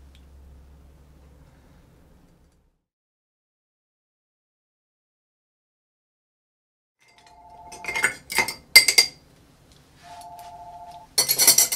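A bar spoon stirs an Italian Long Island Iced Tea–style cocktail in a glass, giving sharp clustered glass clinks after a long near-silent stretch; a steady electronic ringing tone sounds twice alongside.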